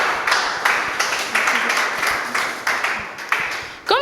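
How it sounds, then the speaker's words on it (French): A crowd applauds steadily for several seconds, a dense wash of clapping with a few sharper bursts rising out of it. "Est-ce qu'on peut applaudir pour ces femmes incroyables?"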